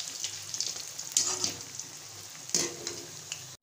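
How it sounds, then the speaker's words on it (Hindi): Pakoras deep-fry gently in oil over low heat, a quiet bubbling sizzle with occasional louder crackles and spatters. "हल्की आंच पे पकोड़े फ्राई करने हैं ताकि अंदर तक कोई भी चीज़ कच्ची ना रहे।"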